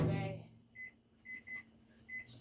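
A kitchen microwave oven keypad being set to cook fufu in a plastic bag, giving four short electronic beeps at uneven intervals after a brief burst of voice, near and clear.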